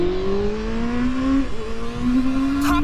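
A Honda CBR sport motorcycle under spirited riding, its engine note climbing steadily through the gears with a brief dip at a shift, then revving on, loud and continuous with wind noise.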